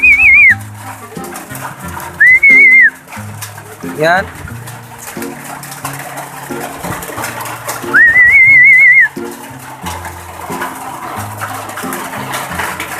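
Pet birds call with repeated whistled notes and cooing, rising above a busy background of speech and tonal sound; a person talks throughout.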